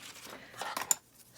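Scissors snip through paper while trimming pieces for a vintage shabby-style keepsake journal, a short run of close, crisp cuts with one sharp snip near the end, faint and alone.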